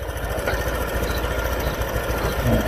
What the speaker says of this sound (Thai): ดูนี่รอบเครื่อง นี่ครับค่า RPM